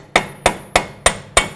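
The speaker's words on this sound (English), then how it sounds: "You can use a punch and a hammer. Bonk, bonk, bonk. Push it through." Hammer striking a punch to drive the axle through the wheel bearing on a 2007–2014 Ford Edge, five sharp metallic blows at an even rhythm, close and loud with nothing else heard.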